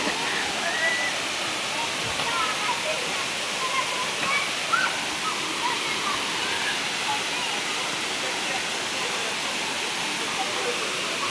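First tier of the Erawan waterfall in Thailand, a constant broad rushing roar of falling water, loud and unbroken throughout.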